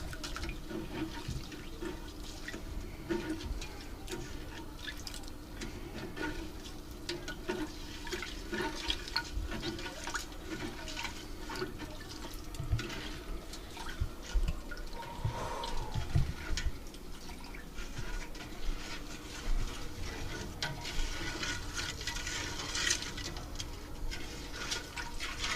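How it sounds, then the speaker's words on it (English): A spoon stirs sugar brine in a pot for corned venison, with continuous sloshing and swirling liquid noise, scraping near the bottom, and occasional drips, moderately close and steady throughout. "So you want to dig down in there and stir that. You got to get all that sugar off the bottom of that pot."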